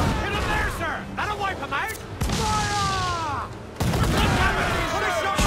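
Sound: naval cannons firing and enemy ship exploding, video game Assassin's Creed IV

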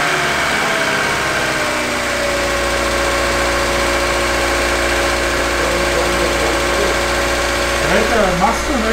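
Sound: 1995 Opel Astra F X16SZ engine idling

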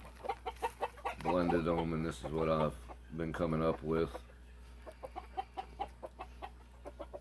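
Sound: Blueface hatch gamefowl chickens clucking

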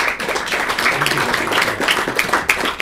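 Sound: big applause from audience

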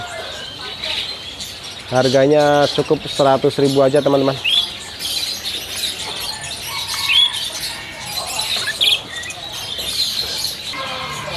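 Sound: dark-coloured Loper canaries chirping at bird market

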